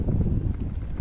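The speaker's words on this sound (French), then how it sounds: "Il y a le vent là, il est dans le latéral" Steady low wind rumble buffets the microphone during a mountain-bike tour along the Spanish coast between Benicassim and Valencia, with a moderate crosswind under grey, cloudy skies. It is continuous and close, with no voices.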